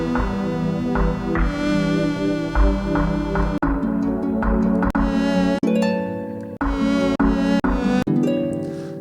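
A dungeon synth track plays back in Reaper, with droning synth chords and melodic lines that cut off in short gaps near the end, fairly loud with no voices.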